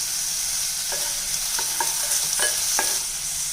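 Onion and tomato with salt and a little tamarind sautéing in a pan for mint chutney, a steady sizzle with several distinct spatula scrapes spaced through it, close and fairly loud, no talking.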